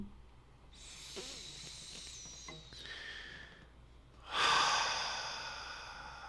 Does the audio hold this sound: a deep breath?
yes